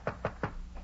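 Three firm knocks on a door in a 1940s radio comedy, evenly spaced and close, the last one trailing off with no speech.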